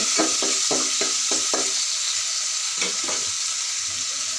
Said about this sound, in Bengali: চিংড়ি মাছগুলোকে লাল করে ভেজে নেব।